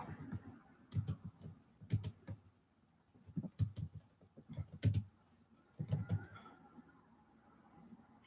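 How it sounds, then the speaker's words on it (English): Bursts of computer keyboard typing, quick clusters of key clicks separated by short pauses, close and fairly quiet, with faint background noise. "I can type."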